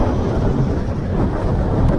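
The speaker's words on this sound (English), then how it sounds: "It is windy as hell, as you can see up here" Strong wind pounds the microphone on a hilltop saddle near ancient ruins on Santorini, a continuous heavy low roar with little variation, loud and close, with no one speaking.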